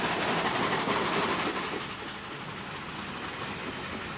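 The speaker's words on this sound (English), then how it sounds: "A Korean War troop train rushes by on the adjacent Santa Fe line." A Korean War troop train rushes by on a Santa Fe line, a steady loud broadband roar of rolling cars and wheels that eases slightly after the first couple of seconds and carries on continuously.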